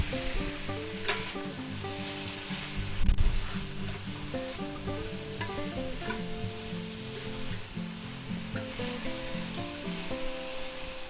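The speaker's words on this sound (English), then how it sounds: "we're going to take our celery that we sliced up like matchsticks, and we're going to put them in there" Sliced celery matchsticks and green onion bottoms stir-fry in a hot pan for a pheasant and quail dish, giving a continuous, close, even sizzle with no talking.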